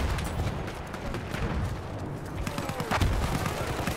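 Dense, continuous battlefield gunfire and blasts in Battlefield 1, a World War I shooter set at Verdun, with mortar shells landing amid steady rattling fire and a heavier thump near the end.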